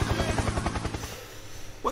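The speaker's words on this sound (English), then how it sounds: "helicopter, helicopter." A helicopter's rotor chops in quick rhythmic thumps that fade away, followed by a brief lower rumble.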